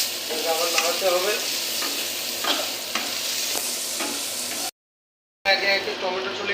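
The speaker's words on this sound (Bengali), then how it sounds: "আবার নাড়াতে হবে" Close sizzling of food frying in a pan with rhythmic stirring scrapes, then a brief dropout of silence before the frying resumes.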